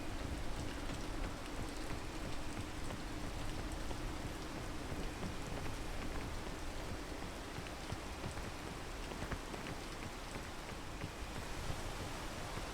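Continuous heavy rain in a video game, a loud, uniform wash of falling drops with no pauses, a faint low rumble underneath and no voices.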